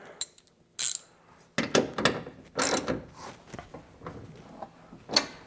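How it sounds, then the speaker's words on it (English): A ratchet tightens a bolt on a bike rack fitted to a Tesla Cybertruck, giving several short bursts of close metallic clicking with brief pauses between strokes, loud and clear with no talking. "Come in with your ratchet."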